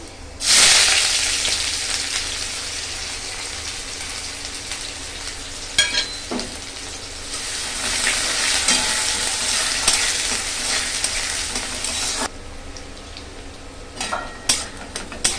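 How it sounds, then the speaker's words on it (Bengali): Dry red chillies and panch phoron sizzle loudly in a pan, a dense continuous hiss with scattered spatula scrapes and stirring clicks, ending in a quieter stretch with a few sharp taps. "মশলাগুলো একটু ভাজা যাবে"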